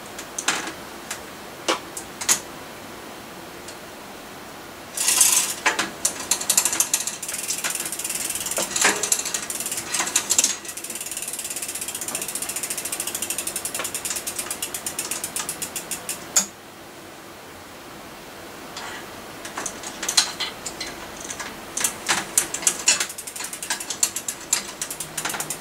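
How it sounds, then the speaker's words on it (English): A wrench ratchets in bursts of rapid clicking while undoing the rear gears on a Saracen Raw mountain bike, with a nearby, fairly loud mechanical clatter that comes in runs separated by brief pauses. "Then the rear gears, which I need a 9mm wrench for."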